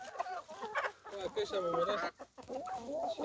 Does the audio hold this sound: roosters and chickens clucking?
yes